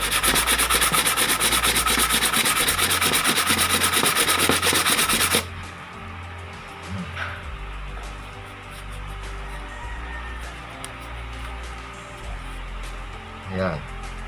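Brisk rasping of 1,000-grit sandpaper on a motorcycle part for about five seconds, then it stops, leaving quiet room noise with a few faint knocks.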